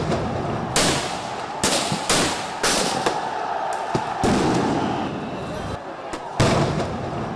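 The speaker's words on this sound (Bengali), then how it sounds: "চারিদিকে বুলেট আর বোমার শব্দ।" Repeated loud bangs of gunfire and bomb blasts during deadly street violence in Chattogram and Panchagarh, Bangladesh, about eight sharp bursts over a noisy, rumbling background with no talk.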